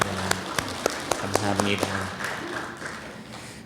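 A church congregation at a Sunday service claps briefly in a loose burst of sharp hand claps beneath a speaking voice, fading into room noise as the speech carries on.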